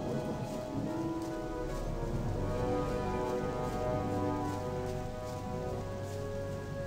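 Steady rain in a video game pours down continuously, a dense hiss of drops with a low rumble underneath and no voices.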